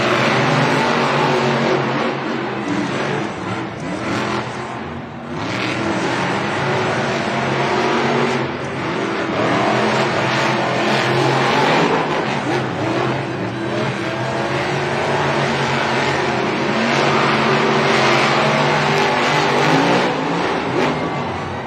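Monster trucks racing at a Monster Jam stadium event in Denver, a continuous loud roar of big engines revving and accelerating, with a crowd wash underneath.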